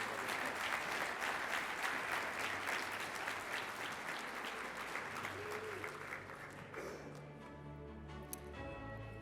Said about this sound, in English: And another round of applause for all the winners in this category